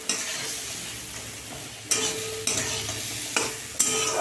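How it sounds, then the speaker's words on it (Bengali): Drumstick (moringa) pieces fry in oil with five-spice, salt and a little turmeric, a steady close sizzle broken by several sharp stirring scrapes and clatters. "সজনের ডাঁটাগুলোকে আমি মাঝামাঝি করে ভেজে দিচ্ছি"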